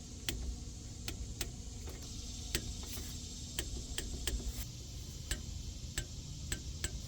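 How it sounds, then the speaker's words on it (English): A torque wrench tightens bolts on a Ford F150, its ratchet giving sharp, regular clicks at a steady pace over a low, constant background hum. "now we need to grab our torque wrench and torque these bolts down"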